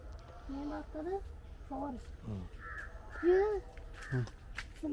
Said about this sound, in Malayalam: കാക്കകളല്ലേ